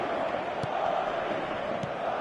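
A stadium crowd at a football match in a video game, a broad, steady roar of many voices with a couple of faint thuds, distant and continuous beneath the commentary.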